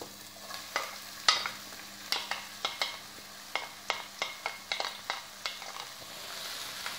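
Onion dropped into hot oil in a frying pan, with a low sizzle under a run of sharp, evenly spaced spoon taps and scrapes against the pan; close and quiet, no speech.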